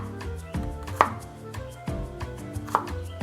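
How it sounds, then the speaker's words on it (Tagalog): A knife chops onion on a cutting board in a home kitchen, a run of close, crisp knife strikes in uneven rhythm, with a few sharper hits standing out over a quiet room. "Chop-chopin ang onion."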